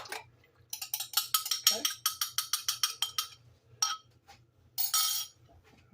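Three fresh medium-large eggs beaten in a bowl: quick rhythmic clinks of utensil against the bowl in a fast steady series, pausing, then two short bursts, close and clear with no talk.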